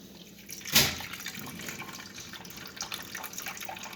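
Goat cheddar cheese curds drip liquid into a container, a sharp splashy drop near the start followed by a steady, softer trickle and patter close by.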